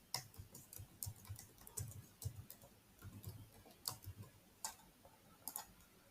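Keys clatter in an irregular run of soft clicks while someone enters a new password on a computer keyboard during an email account import, quiet and close with no talking.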